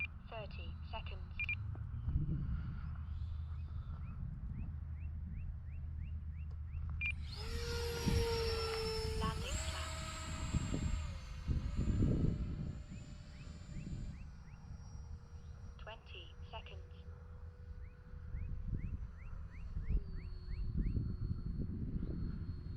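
An Arrows F-86 RC jet with Vector self-leveling flies past, its electric ducted-fan whine rising and sweeping in pitch as it nears and then fading, while someone talks over it.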